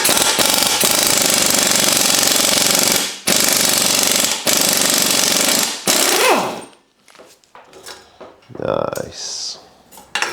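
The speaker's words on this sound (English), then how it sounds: "my compressor's going to kick in now" A workshop air compressor starts up and runs with a loud, harsh rattling chug, stopping briefly twice. It then cuts out, leaving quiet clinks and faint handling noises.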